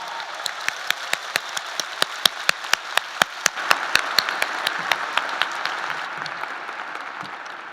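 Audience applause at a 2019 psychology commencement ceremony after thesis graduates are named, beginning with a few loud, evenly spaced claps that merge into a steady, sustained round of clapping from a large crowd.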